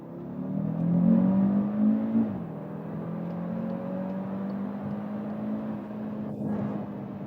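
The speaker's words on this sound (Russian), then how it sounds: "И давайте еще раз ускоримся на трассе." The five-cylinder engine of a Cupra Formentor VZ5 drones and climbs in pitch as it accelerates on a track, a steady hum with a brief shift midway, heard from inside the cabin.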